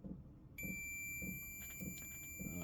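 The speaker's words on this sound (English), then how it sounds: "if the buzzer goes, it's good." A buzzer on an old ESR meter, used while testing capacitors in a vintage GEC dual-standard television, sounds a steady high-pitched tone over low background rumble, with faint clicks partway through.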